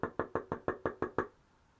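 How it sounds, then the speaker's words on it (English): A farmhouse door being knocked on, eight firm, evenly spaced raps that sound close and loud, followed by a short quiet room tail. "he went to the farmhouse door and he knocked."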